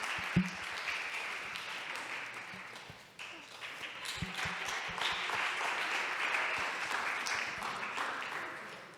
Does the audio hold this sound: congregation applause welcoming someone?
yes